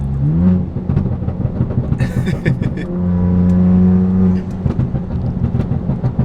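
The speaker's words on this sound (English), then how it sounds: "downshift so you guys can hear what the burbos sound like on the freeway" Close, loud straight-piped BMW 335i engine noise on the freeway with a revving pitch that climbs, holds, then drops off on a downshift into fourth, followed by rough crackling exhaust burbles.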